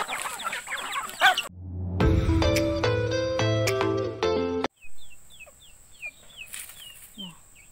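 Pet chickens in a village yard cluck nearby, and small chicks peep in thin, repeated chirps during the second half. A stretch of tonal music-like sound plays in between.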